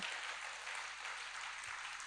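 A crowd applauding steadily, dense clapping that fills the whole moment without a break, fairly loud and with no voices over it.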